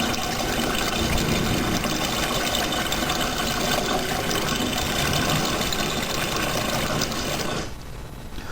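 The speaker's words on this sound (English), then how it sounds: "Water will start gushing out." Water gushing out of bottles through straws of different lengths: a loud, steady rushing flow that runs unbroken for about seven and a half seconds, then cuts off abruptly, leaving a fainter trickle.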